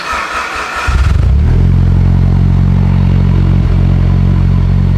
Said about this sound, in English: Let's do a little cold start for the boys.